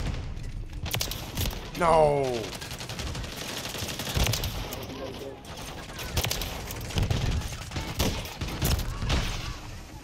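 Rapid bursts of automatic gunfire and booming shots from the Call of Duty video game crackle through the whole stretch, with a player's voice exclaiming over the fire.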